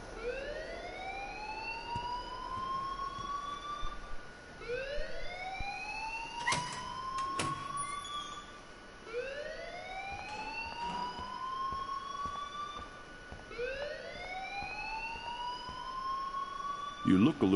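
A rising, sweeping alarm in a video game repeats in steady cycles about every three seconds, loud and continuous, with a couple of sharp knocks partway through and voices talking over it.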